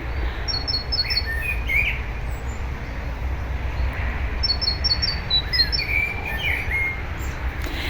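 Small birds chirp outdoors on a spring day among flowers, bright repeated tweets and short trilled phrases coming in two bursts over a steady low rumble of distant background noise.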